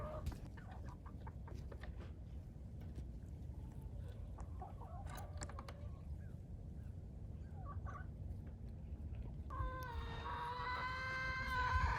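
Backyard chickens cluck softly in a small flock, scattered low calls over a quiet outdoor background, with a louder run of clucks near the end.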